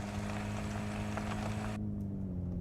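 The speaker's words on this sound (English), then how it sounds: "if I stop, you can hear just the idle of the engine" A car engine in the video game Unturned 4.0 hums at a steady idle, at first under a broad hiss of tires rolling on the ground that cuts off abruptly, leaving the low engine drone alone.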